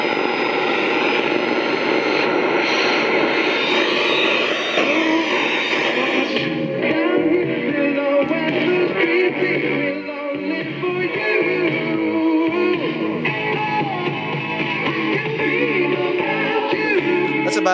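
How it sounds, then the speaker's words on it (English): A 1962 General Electric P865B AM/FM transistor radio, made in the USA, plays on the AM band, giving a loud, continuous broadcast sound with dense, busy content that shifts character partway through and never drops out. "All right, let's hear it on AM."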